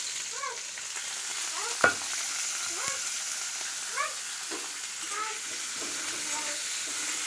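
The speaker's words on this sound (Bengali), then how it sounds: "কড়াইতে তেল দিয়ে দিলাম, এবার হচ্ছে সবগুলো সবজি দিয়ে দেবো আমি।" Vegetables sizzle in hot oil in a wok, giving a soft, steady frying hiss with a few light knocks and faint chirping tones in the background.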